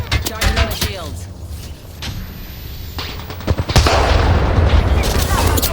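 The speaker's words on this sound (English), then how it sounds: "Listen up, I'm getting shot from enemy over there." Gunfire in the video game Apex Legends, with bursts of shots ringing out close and loud, thickening into sustained fire toward the end over game noise.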